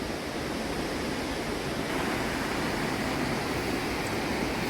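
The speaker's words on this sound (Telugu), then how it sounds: "చూడండి అద్భుతంగా ఉంది వాటర్ ఫాల్స్ అయితే" Steady, dense rushing water roars continuously, a loud broadband wash of Mallalli Falls close by, with no voices.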